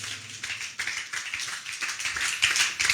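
A church congregation claps together in acclamation during worship, a dense, steady patter of many hands that sounds fairly close and continues evenly without a break.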